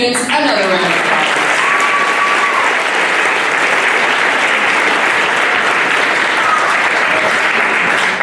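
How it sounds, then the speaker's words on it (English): Steady, loud applause from an audience at a seventh grade middle school academic awards ceremony, continuous clapping filling the room for several seconds with a faint tone briefly audible beneath. "Let's give these students another round of applause."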